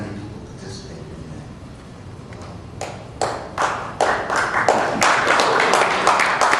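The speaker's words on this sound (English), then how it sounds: "They keep clapping, I'm going to be here all night." An audience claps in a hall, starting sparse and rising to louder, denser applause with some distinct sharp claps.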